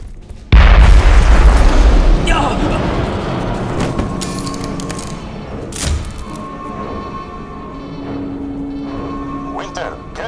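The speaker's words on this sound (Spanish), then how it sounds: "¡Explosión por descompresión en la Sulaco!" A decompression explosion aboard the Sulaco in the video game Aliens: Colonial Marines hits as one sudden, heavy boom, then a long rumbling roar slowly fades with scattered crackles and thuds.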